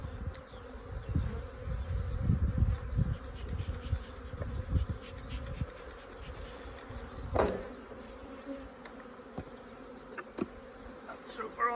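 Honey bees buzz busily around an opened hive with its crown board and supers, a steady dense drone with a few louder passes close by and no talk.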